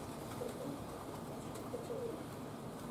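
Roller pigeons coo faintly in a few soft low calls under a steady broadband background hiss, quiet and some distance off.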